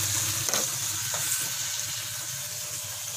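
Two burger buns frying in a hot pan give a loud, steady sizzle close by, with a faint clink near the start.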